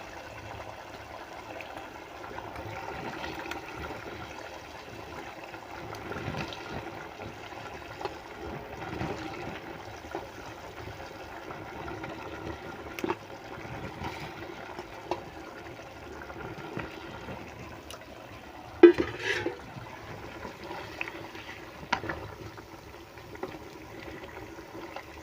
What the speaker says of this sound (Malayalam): അരപ്പ് തിളച്ചിട്ടുണ്ട്. ഇനി നമുക്ക് മീൻ ഇട്ട് കൊടുക്കാം.